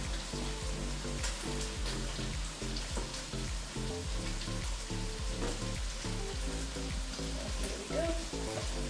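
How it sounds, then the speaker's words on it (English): Washed dishes are rinsed under running water in a home kitchen, a steady faint hiss and patter of the stream alone, with clinking dishes faintly mixed in. "So I'll rinse this up, the one that I have already washed"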